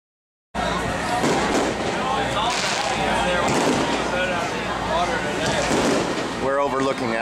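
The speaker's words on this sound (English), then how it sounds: "Watching the fireworks here at the Grand Slam Blue Water Babes Tournament." Fireworks at a fishing tournament near the Jupiter Lighthouse, heard as a dense, continuous crackle and rumble of distant bursts, with a crowd's chatter and noise blended throughout.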